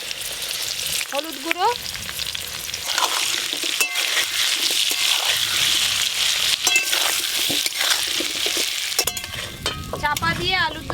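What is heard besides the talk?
potatoes frying in hot mustard oil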